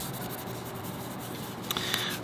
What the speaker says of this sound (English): And then buff it up. With a little buffing pad.